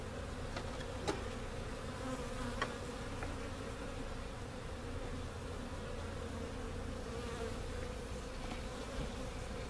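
A tiny cast swarm of honeybees in a hive gives a soft, steady buzz. Now and then a louder bee passes close by.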